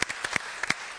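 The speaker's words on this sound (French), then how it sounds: "On l'applaudit bien fort." A short burst of audience applause at a French regional television record attempt, a few quick, loose hand claps heard close over a faint hiss, lasting about a second with no voices.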